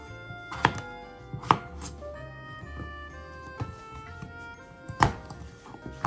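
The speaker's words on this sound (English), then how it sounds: "We got our potatoes cut up." A knife chops potatoes on a cutting board for homemade beef stew, giving a handful of sharp, close thuds at uneven intervals over a low background hum.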